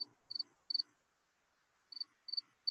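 Crickets chirp in short bright pulses, a few quick trills, then a pause before the chirping resumes; close and clear, with no talk.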